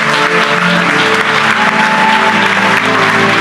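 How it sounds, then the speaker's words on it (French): A church congregation applauds loudly and continuously, dense clapping filling the room close by for the whole stretch. "Acclame bien, bien, bien, bien, bien."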